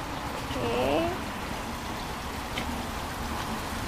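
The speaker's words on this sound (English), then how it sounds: "look at even this water feature here" A garden water feature fountain at a plant nursery in San Marcos, California: a steady, moderate trickling and splashing wash that runs throughout, with a brief faint chirp early on.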